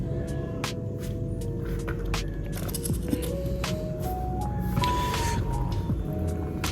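Brushless motor of an LDRC 1:18 scale adventure RC car, noisy at low speed, whining with steady rising tonal steps over a continuous rough mechanical hum, close and moderately loud.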